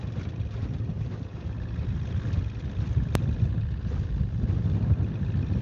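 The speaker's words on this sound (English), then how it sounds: "this wind is really picking up" Steady low wind rumble buffets the microphone outdoors on Holter Lake, a broad continuous roar with gusty swells and no speech.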